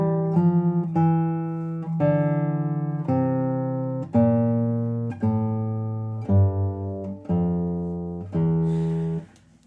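Classical guitar plays a slow descending bass line from Foscarini's Pavaniglia, about nine plucked chords struck one after another in even rhythm, each ringing then cut by the next, clear and close.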